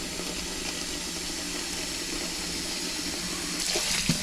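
Water rushing steadily from a tap through a kitchen sink drain that had backed up with debris, a continuous hiss and splash with a few gurgles near the end, no talking.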